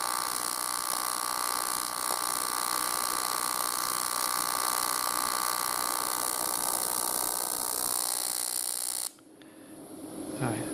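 TIG welding aluminium with the arc struggling at the wrong amperage: a steady, harsh electrical buzz and crackle runs for about nine seconds, then cuts out abruptly, leaving quieter background noise.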